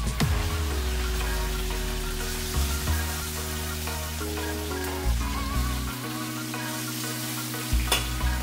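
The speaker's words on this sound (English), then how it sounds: "So you see that sizzle, you see that crackle" Chicken frying in a hot pan gives a steady, loud sizzle with crackling, joined by stirring scrapes and clatter and a deep background hum throughout.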